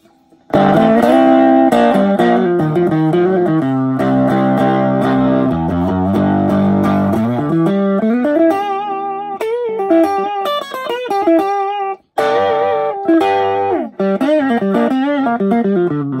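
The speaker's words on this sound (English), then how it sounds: "Second gain stage, a little more distortion." An electric guitar played through a Harmony H400A amp on its second gain stage gives a loud, mildly distorted tone, held chords and then a run of single-note lines with one brief pause near the end.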